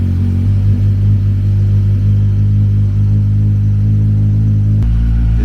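A 1000cc sport touring motorcycle engine runs close by with a loud, steady low rumble, then shifts to a deeper, heavier tone near the end.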